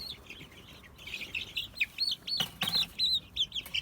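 Young hen chicks peep in quick, high, repeated chirps inside a chicken coop, close and fairly soft, with a brief rustle partway through.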